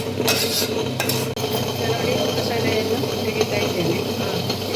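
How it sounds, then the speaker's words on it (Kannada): Spices tempering in hot oil for a jackfruit and chickpea sukka, a steady close sizzle with clinks of a metal utensil against the pan, plus a brief dropout partway through; no one speaks. "ಈಗ ಸುಕ್ಕಕ್ಕೆ ಒಗ್ಗರಣೆ ಇಟ್ಟಿದ್ದಾರೆ"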